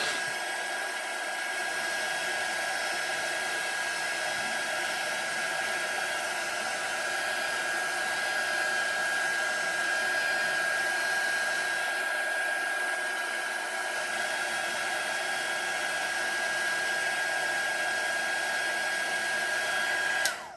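A hair dryer blows steadily on a craft project, a loud, even whooshing hiss with a faint high whine that runs unbroken for about twenty seconds before clicking off at the end.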